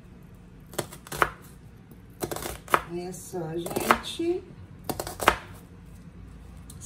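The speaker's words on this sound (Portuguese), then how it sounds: "Vou começar aqui picando a cebola." A knife chops an onion on a cutting board in short bursts of quick strokes, with someone talking briefly between them.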